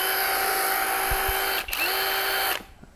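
A cordless brushless drill with a 185 Nm rated torque spins at a steady high whine for about two and a half seconds, with a brief dip midway before winding down and stopping.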